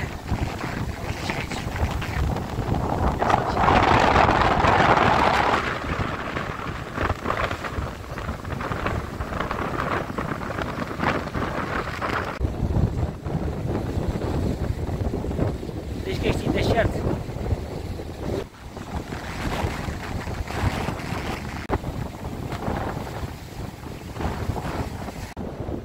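A strong wind storm under a yellow wind warning near Ostrov, Constanța, rushes continuously and loudly over the microphone in a dense roar that surges in gusts, with a voice speaking faintly beneath.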